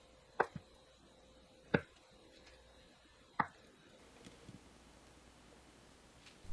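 A knife cuts a block of tofu into 1 cm thick slices on a cutting board in a kitchen, three sharp, distinct chopping taps spaced about a second apart, followed by faint soft handling noises.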